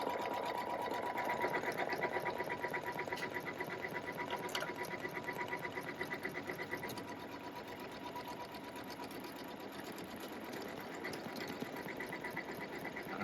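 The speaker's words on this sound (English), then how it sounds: "I'm going to hit the start button and let it make buttonhole number 1" An automatic sewing machine stitches a buttonhole on a shirt over a stabilizer plate, its needle chattering in a fast, even, continuous rhythm up close with no talking.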